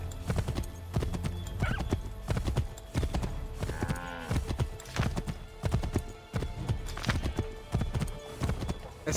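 A horse gallops with steady clip-clopping hooves and lets out a whinny midway, in the Assassin's Creed 3 video game, moderately close throughout.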